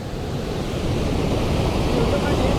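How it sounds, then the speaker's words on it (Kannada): A waterfall near Yellapur pours into a river, heard as a steady, moderately loud rushing wash throughout, even and unbroken like surf. "ಅಲ್ಲಿ ನೋಡಿ, ಅಲ್ಲಿಂದ ನೀರು ಬೀಳತೈತಿ."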